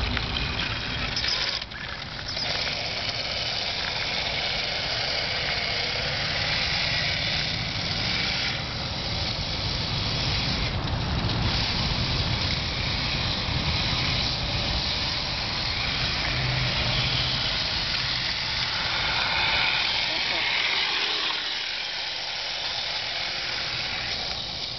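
A brushless-motor electric mountainboard, wirelessly controlled, takes off and rolls along with a continuous broadband whoosh of wheels and wind, fairly loud and steady throughout.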